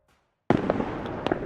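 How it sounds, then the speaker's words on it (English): A single loud burst of fireworks erupts in the night sky after half a second of silence, followed by a dense crackling, sizzling tail with a few brighter pops. "a burst of fireworks explodes in the night sky"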